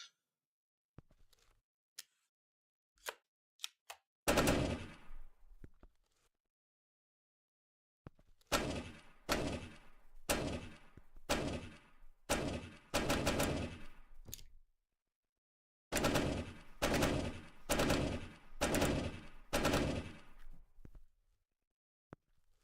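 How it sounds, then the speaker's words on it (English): Sharp gunshots in a video game ring out loud and close, first as scattered single cracks, then in tight bursts of rapid shots separated by silent pauses. "Burst fire."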